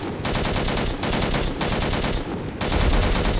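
An autocannon in the Angels Fall First video game fires at a fighter in several loud, rapid bursts of heavy shots, each burst broken by brief pauses, with the final burst the loudest.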